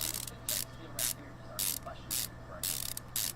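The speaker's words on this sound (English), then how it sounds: "Put the lug nuts on." Repeated ratcheting from a wrench tightening car wheel lug nuts in Car Mechanic Simulator, six short bright bursts at an uneven pace over a steady low hum, fairly close and clear.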